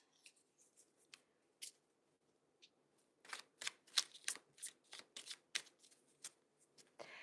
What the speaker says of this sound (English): Have you ever seen anybody shuffle this much?